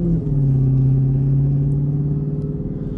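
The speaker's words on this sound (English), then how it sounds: "She's back driving the Hellcat." A Dodge Hellcat cruising with a deep, steady engine drone and a low rumble that hold through the whole stretch, close and fairly loud with no talk over it.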